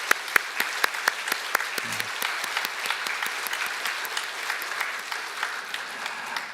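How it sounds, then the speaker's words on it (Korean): Congregation applauding together in a church during a Sunday service, honoring newly baptized members: steady, dense clapping from many hands that fills the room evenly throughout, with a few sharper individual claps standing out near the start. "우리가 형제자매로 우리 다 같이 박수로"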